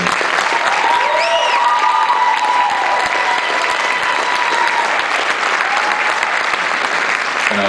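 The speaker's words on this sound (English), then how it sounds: "So I'd like to have a nice round of applause for everyone." Sustained applause from the audience at a school band spring concert, steady and full throughout, with a few faint whistles rising over the clapping early on.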